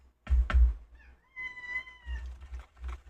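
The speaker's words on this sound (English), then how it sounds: "Do you hear this cat?" A house cat meows indoors, with a couple of thumps at the start, then one clear, drawn-out meow followed by low rumbling noise.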